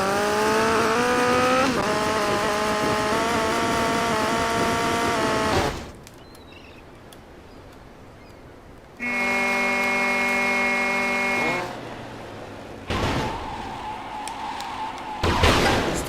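In Grand Theft Auto: Vice City Stories, a car's engine roars at high revs during a stunt jump, cuts out into near silence mid-air, then bursts back with whining engine tones and rumbling after landing.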